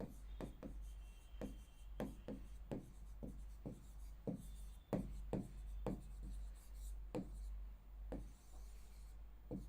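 Pen strokes scratch across paper in quick, uneven bursts as the words 'apple and orange' are handwritten, close and fairly quiet over a steady low hum.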